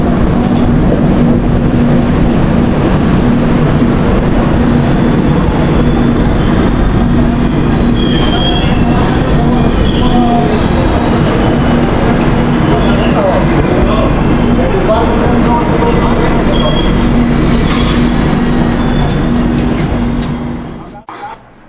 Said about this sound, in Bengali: ট্রেন মোটামুটি একদম সঠিক টাইমেই চলছে।